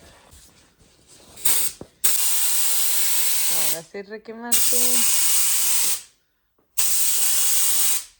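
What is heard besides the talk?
spray can spraying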